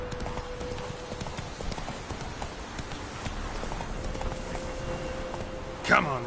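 Roach the horse trots in The Witcher 3, a continuous rapid clip-clop of hooves against a busy game soundscape, with a short whinny-like burst near the end.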